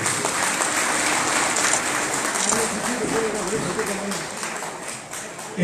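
An audience at a civic ceremony, where a mayor hands out jackets to sanitation workers, claps steadily and densely throughout, a sustained wash of applause with no pauses.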